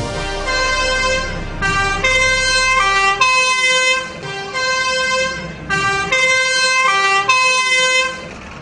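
Emergency vehicle siren, likely a Slovak ambulance or fire engine, approaching during a children's first-aid demonstration in Liptovský Mikuláš; a loud two-tone wail alternates steadily in repeated cycles over low traffic rumble, with no talking.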